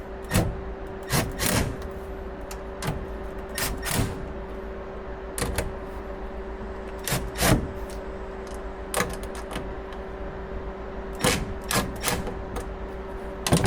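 A socket wrench works the bolts on an Onan/Cummins 10K quiet diesel RV generator, giving sharp metallic clicks and ratcheting taps in irregular bursts over a steady low hum, close by and without speech.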